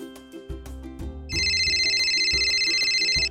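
A telephone rings for an incoming call-in to a Spanish-language podcast. After a second of music, a loud, steady electronic trill starts and repeats in close, pulsing bursts.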